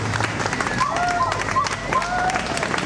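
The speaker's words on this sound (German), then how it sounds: "dafür muss es auf jeden Fall den größten Applaus geben" A crowd at a Berlin eviction blockade protest applauds with dense, continuous clapping, with a few whistles rising above the noise.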